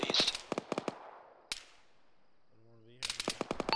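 Close automatic gunfire in the military game Arma, rapid bursts of sharp cracks at the start, a single shot with echoing decay, a brief tonal whine, then another rapid burst.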